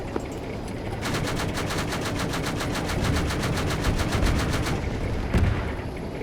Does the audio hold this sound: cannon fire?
yes